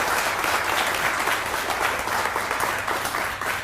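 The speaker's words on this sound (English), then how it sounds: "One more round of applause for Vernity Motor Cars" Steady, full applause from a large audience at a teacher of the year celebration, many hands clapping evenly throughout with no pauses.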